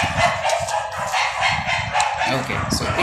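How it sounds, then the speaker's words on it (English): Dogs barking nearby in a home, repeated barks and yips running throughout, mixed with a person talking over them. "These dogs."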